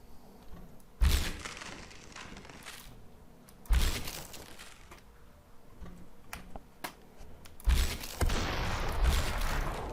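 Three sharp, loud gunshot-like cracks from the video game Superhot: Mind Control Delete, spaced a few seconds apart, with quieter clicks and rustling between them.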